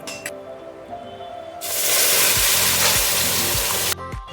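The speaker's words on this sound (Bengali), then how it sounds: "দিয়ে তারপরে ডালটা এর মধ্যে ঢেলে দেবো।" Cooked dal poured into a hot tempering pan with Kashmiri chilli powder for dal fry, a quiet clink followed by a sudden loud, hissing sizzle that holds steady for about two seconds, then cuts off.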